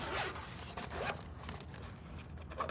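Zipper pulled open around a pickleball paddle case, a steady ripping zip with a brief pause mid-way and a final tug, close and clear.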